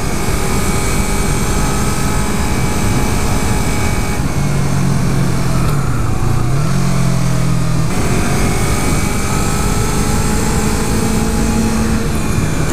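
A 2015 Yamaha R3 motorcycle engine drones steadily through a test ride, with loud constant wind rush and a shifting engine tone that dips and rises mid-run, no talk.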